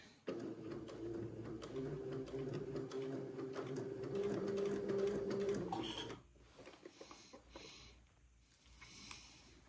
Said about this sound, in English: get this piping all sewn on around the edge of the facing